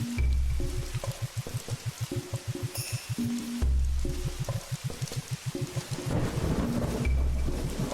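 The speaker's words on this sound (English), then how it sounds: "I picked the night where it's raining to do this, so I get the atmospheric sounds" Rain and thunder ambience in the TCG Card Shop Simulator video game, steady rainfall with rumbling thunder running through the scene, mixed with a rhythmic pulsing game music loop and occasional chimes.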